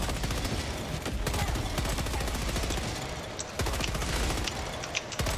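Sustained automatic machine-gun fire in a first-person shooter game, a dense rapid stream of loud shots running almost unbroken with a brief gap midway, backed by heavy booms.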